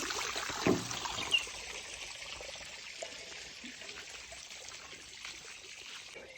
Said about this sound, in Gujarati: મોટી પાઇપ નાખી દીધી ને વચમાં થોડુંક કાણું હોય તો અહીંયાથી બધે બધું આ ટાંકું પૂરું ભરાઈ જાય